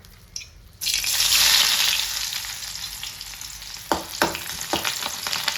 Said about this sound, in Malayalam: നെയ്യിലാണ് വറുത്തെടുക്കേണ്ടത്